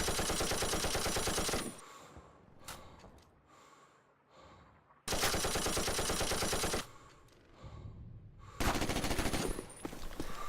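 Light machine gun bursts in Call of Duty: United Offensive, three long loud rapid-fire volleys separated by quieter gaps with faint breathing and small clicks.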